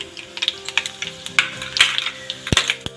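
Mustard seeds and cumin pop and crackle in hot oil, a close burst of irregular sharp spatters and ticks over a low sizzle, with no talk.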